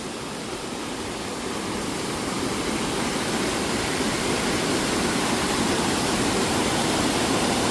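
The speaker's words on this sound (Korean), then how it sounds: "여기는 약간 폭포 같은 그런 느낌이 들고" A steady, loud rush of falling water from a waterfall in a mountain stream valley on Gariwangsan, Jeongseon, dense and continuous, with no other sounds standing out.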